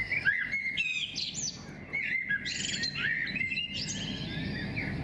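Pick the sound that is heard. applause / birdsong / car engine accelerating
birdsong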